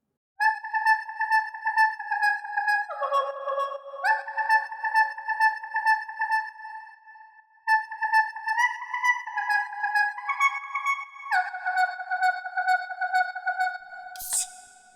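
A synth plays a bright, bell-like melodic line whose loudness pumps rhythmically, sidechained to a kick drum, in two similar phrases ending with a brief noisy burst.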